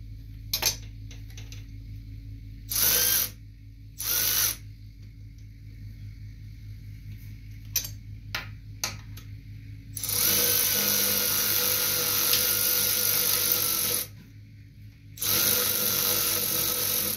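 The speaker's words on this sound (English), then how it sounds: "we got that bolt tightened back up" A wrench works a bolt on the idler pulley of a Toro commercial zero-turn mower deck. There are scattered metallic clicks and clanks, then several long bursts of loud ratcheting or power-tool whirring over a low engine-like hum.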